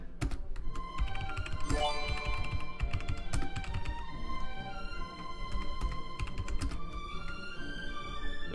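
Rapid typing on a computer keyboard during a party game, dense clacking keystrokes in quick bursts, close and steady throughout with light musical tones in the background.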